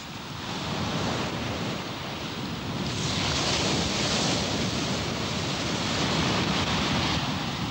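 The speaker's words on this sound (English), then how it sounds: "the ocean became rough." Rough open ocean near Okino Torishima as a typhoon approaches, a continuous loud rush of surf and wind with waves washing and swelling, growing slightly stronger partway through.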